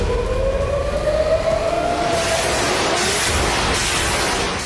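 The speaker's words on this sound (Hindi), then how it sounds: "इजराइल की राजधानी में एयर रेड अलर्ट के ये गूंजते हुए सायरन" An air raid warning siren wails over Israel, a single rising tone that swells and holds loud and steady against a constant wash of wind-like outdoor noise, with no voices.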